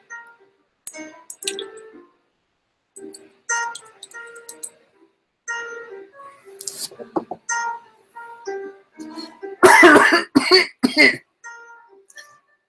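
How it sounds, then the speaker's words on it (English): Repeated bursts of coughing come in short, harsh fits, some louder and rougher than others, separated by brief silences. "about the coughing, don't worry"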